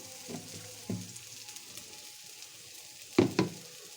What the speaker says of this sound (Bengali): মশলাটা মোটামুটি ভাজা হয়ে গেছে।